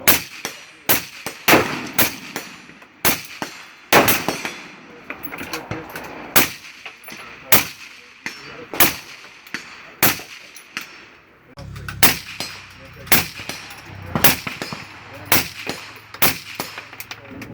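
Suppressed shots from a URGI rifle fitted with a Surefire RC2 suppressor, a long string of sharp cracks, some in quick pairs, others spaced apart, close and loud, with brief mechanical clanks between.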